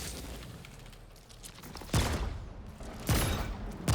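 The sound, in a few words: Savior gun firing in Remnant 2 video game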